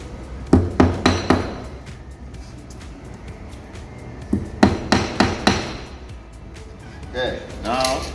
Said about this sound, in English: you're going to use a hammer to tap them flat